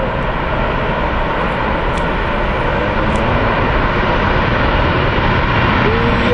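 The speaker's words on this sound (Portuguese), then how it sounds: "Parece que é um 737" A Boeing 737 jet airliner near an airport runs in a loud, steady, continuous roar with no audible talking.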